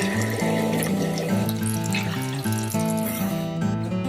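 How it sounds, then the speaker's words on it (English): Water runs steadily from a tap while a jar is rinsed under it, a continuous splashing wash that lasts throughout, with backing music playing over it. "rinsing out my jar."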